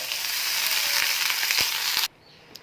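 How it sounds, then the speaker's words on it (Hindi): Butter melting in a hot pan gives a loud, steady sizzle with small crackling pops for about two seconds, then it cuts off abruptly into near silence. "अब पैन में फिर से आधा चम्मच हम मक्खन डालेंगे। हल्का से इसे मेल्ट कर लेंगे।"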